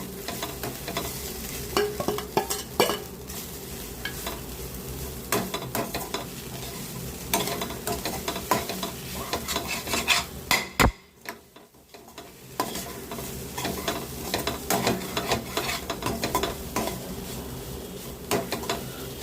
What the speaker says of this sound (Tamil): கொஞ்ச நேரம் கிளறி கொடுத்து ஆஃப் பண்ணிட்டோம்